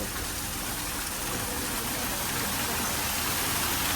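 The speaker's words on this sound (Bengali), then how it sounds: "এখানে সুন্দর একটা ঝর্ণাও আছে তোমাদেরকে আমি এখনই ঝর্ণাটা দেখাই" A waterfall at a forest-style cafe in Bangkok roars as a steady, loud, broadband rush of falling water, continuous and close with no breaks or voices.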